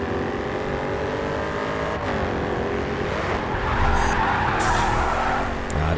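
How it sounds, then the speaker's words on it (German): A car drifts in the Grid 2 racing game: a sustained, loud tire squeal rides over a steady engine roar for the whole stretch, swelling a little near the end, with no talking. "Netter Drift."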